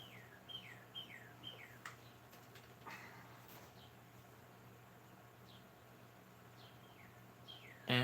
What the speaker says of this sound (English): you can hear that bird chirping